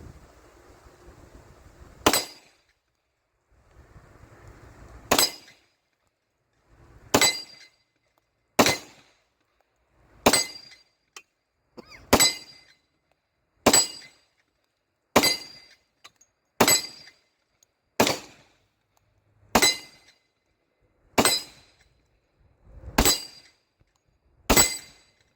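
A 10mm Glock pistol with a six-inch barrel fires about thirteen sharp, loud shots at a steady pace of roughly one every one and a half seconds, each a crisp crack with a short ringing tail, with no talk.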